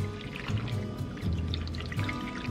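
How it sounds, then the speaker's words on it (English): Three cups of water pour steadily into a casserole dish of sauce and pasta, a continuous close splashing trickle for a few seconds with no talk. "we're just gonna add 3 cups of water."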